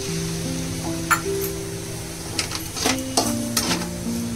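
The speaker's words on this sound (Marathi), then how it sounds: "दूध टाकूया अर्धी वाटी" Half a bowl of milk is poured into a pan and stirred, with a soft continuous pour, light sizzle and several sharp clinks of a spoon against the pan, close and without talk.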